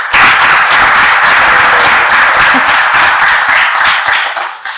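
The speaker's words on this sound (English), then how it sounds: "So I want to give them a round of applause." A conference audience at a university art education keynote breaks into loud, close, sustained applause, dense continuous clapping that holds steady and then tapers off at the end.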